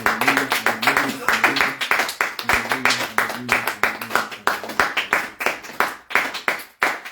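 Church congregation clapping in a fast steady rhythm during worship, loud and close, with voices singing and acclaiming over the claps throughout.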